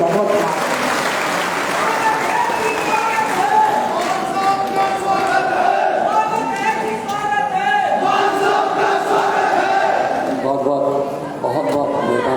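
A large crowd at a political rally in Palampur, Himachal, applauds and cheers loudly to welcome Punjab Chief Minister Bhagwant Mann, with steady dense clapping and shouts under a voice on the public address.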